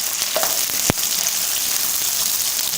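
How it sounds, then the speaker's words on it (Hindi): Capsicum frying with onions in a pan for a restaurant-style chicken jalfrezi: a steady, close sizzle throughout, with a single sharp clink of a utensil near the start. "अभी हम इसके अंदर शिमला मिर्च डालेंगे, शिमला मिर्च, और तकरीबन इसको भी 1 से 2 मिनट फ्राई करेंगे"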